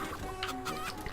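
A chicken in the PSP game MediEvil Resurrection clucks in a few quick, soft pecking bursts over steady game background sound, with no talking.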